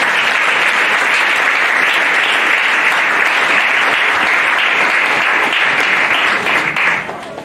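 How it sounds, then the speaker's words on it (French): A church congregation gives sustained, dense applause close by. The clapping stays at a steady level for several seconds, then tapers off at the end. "Est-ce qu'on peut acclamer le Seigneur?"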